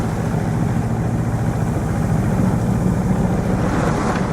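A sailing boat's engine runs steadily while cruising over a flat calm sea with no wind, giving a continuous low droning rumble with a wash of broadband noise, close and unbroken throughout.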